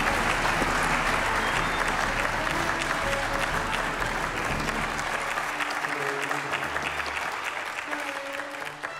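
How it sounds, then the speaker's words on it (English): A live morning show audience breaks into a big round of applause for two guests, sustained loud clapping with some background music tones underneath, tapering a little at the end. "How about a big round of applause for Melissa and Steve?"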